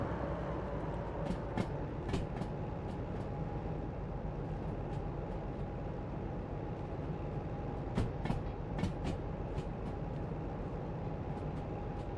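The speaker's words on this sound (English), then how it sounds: "I like the sound of this engine though, it's nice." A locomotive engine in the train simulator game Derail Valley idles in a steady low rumble, with intermittent metallic clicks and clanks ringing out over the drone throughout.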